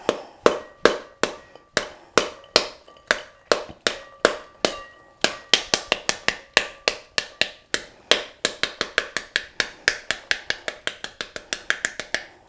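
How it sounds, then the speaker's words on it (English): Sharp repeated pounding on a halved pomegranate to loosen the seeds, dozens of close, loud knocks in a steady rhythm that quickens toward the end, with no talk. "And so I'm going to pound right around these ridges."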